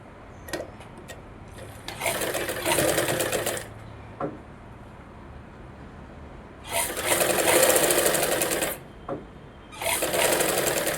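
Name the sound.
sewing machine stitching a half-inch blouse hem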